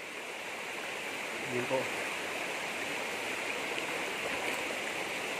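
Waterfall and clean river on a farm lot, rushing as a steady broadband wash throughout, with a brief spoken word over the water near the start.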